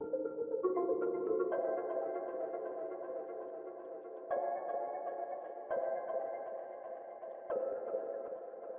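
Warped, pitch-shifted music sample from an oriental house track, smeared by heavy delay and reverb so sustained notes melt together, with a few abrupt note changes over a steady loud wash.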